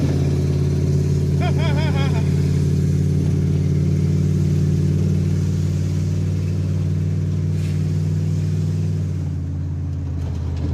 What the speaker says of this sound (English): I know my exhaust loud.